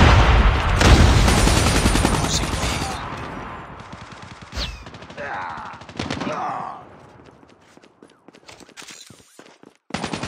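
A grenade blast and bursts of automatic gunfire in the mobile shooter Call of Duty Mobile, loud at first with a heavy boom, then thinning into scattered shots and effects that fade toward the end.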